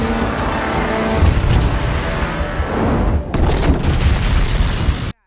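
A loud, heavy explosion near boats in a film roars and rumbles continuously for several seconds, with a dense booming texture, then cuts off abruptly.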